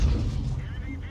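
An STB-1 tank cannon fires in World of Tanks, a single heavy boom at the start that rumbles and decays over about a second, with a voice partly over it.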